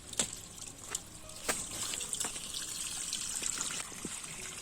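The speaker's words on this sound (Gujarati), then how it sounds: "આપણે વાવ્યું ને બકાલામાં પાણી જવા દઈએ" Water trickles steadily into a freshly sown vegetable plot, a continuous close splashing flow with a few sharp clicks and drips and no speech.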